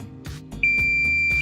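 A multimeter gives a sharp, steady continuity beep lasting under a second when a Lenovo Edge 15 laptop power button is pressed, heard over a soft background hum.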